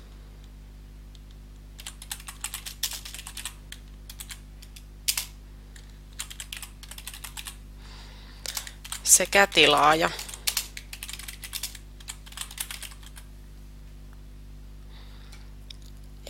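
Typing on a computer keyboard while filling in a blog request form, heard as bursts of close, quick key clicks with a louder flurry midway and a steady electrical hum underneath, while a person speaks briefly.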